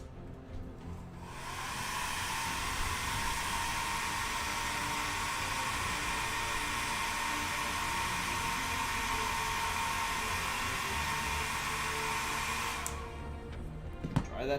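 A hair dryer blows on damp paint on tabletop wargame terrain. It switches on after about a second, holds a loud, steady whooshing roar for roughly eleven seconds, then cuts off. No one talks.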